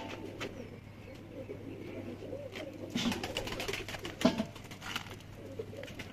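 Pigeons in a Lahore loft coo softly and steadily, a low murmuring layer with occasional louder calls and faint chirps over a constant background hum.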